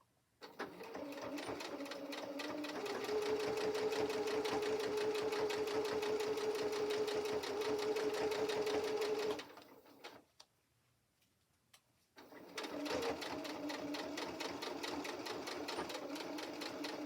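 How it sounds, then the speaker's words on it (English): Sewing machine stitching through the batting of a Japanese rice tote bag, a fast even needle chatter running close for about nine seconds, pausing briefly, then resuming. "So you just want to sew from edge of batting"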